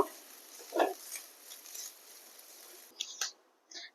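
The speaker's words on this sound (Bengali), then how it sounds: "গ্যাসের ফ্লেমটা লো রেখে আমি নারকেলটাকে হালকা করে একটু ভেজে নেব" Grated coconut frying lightly in hot oil over a low gas flame gives a quiet, steady sizzle, broken by a few soft stirring scrapes near the end.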